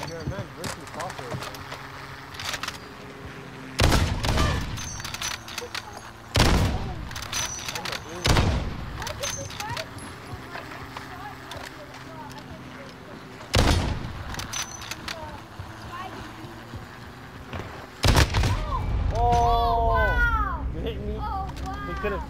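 Sniper rifle gunshots in Call of Duty: Modern Warfare, about six sharp, loud single cracks spaced seconds apart, with people talking between the shots.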